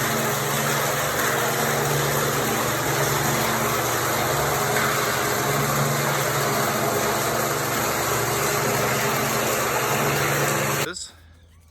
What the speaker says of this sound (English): We've reached a level in the IBC tote that the pump has been activated, and we are now pumping down this container.